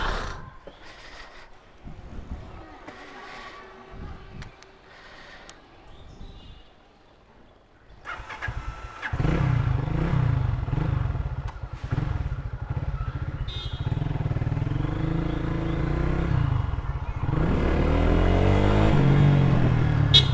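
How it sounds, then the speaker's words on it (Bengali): A modified Lifan KPR 165 motorcycle sets off after a quieter start, its engine swelling into a loud, steady drone with rising revs as it is ridden close by. "চলেন এখন বাইকটা আপনাদেরকে রাইড করে দেখাই"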